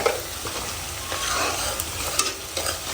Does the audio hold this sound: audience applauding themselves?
no